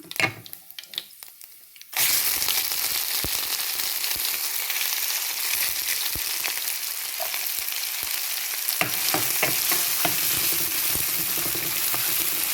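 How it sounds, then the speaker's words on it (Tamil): Onions hit the pan and start frying, a sudden loud, steady sizzle that runs on with light stirring scrapes after a brief quieter opening. "வெங்காயத்தை போடுவோம்"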